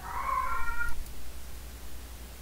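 A cat meows within a horror video game, two drawn-out harmonic cries in quick succession near the start, followed by quiet ambient background.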